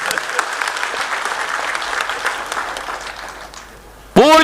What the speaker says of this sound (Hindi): ताली बजाओ सरोज के लिए।